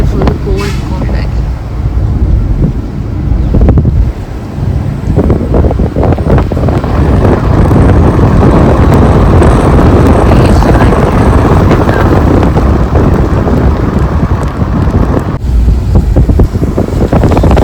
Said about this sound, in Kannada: ಗಾಳಿ ಮಾತ್ರ ಸಕ್ಕತ್ತಾಗಿ ಬರ್ತಿದೆ